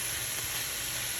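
A medium white onion sautéing in organic coconut oil gives a steady, close hiss and sizzle that runs without a break for a moment, with no talking.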